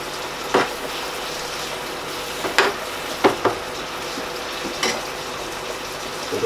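Ground meat frying and bubbling in oil in a pan for spaghetti bolognese, a soft steady sizzle broken by a few sharp crackles and stirring clatters, close and alone with no talk.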